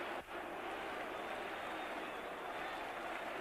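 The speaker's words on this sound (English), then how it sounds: "Naturally, the Twickenham crowd don't agree." A large stadium crowd at Twickenham during a 1988 England v Wales rugby match, broad steady roar of many voices rising in protest at an offside call, dense and continuous throughout.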